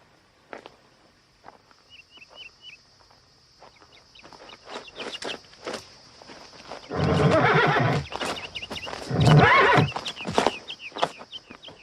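A horse neighs loudly twice, with hooves clopping and shuffling nearby and a chicken clucking in the background, in a 1990 Western film.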